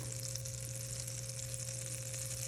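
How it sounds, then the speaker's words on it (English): Steady, dense sizzling of butter in a hot frying pan, continuous and close, with no voices. "You can see my butter's sizzling."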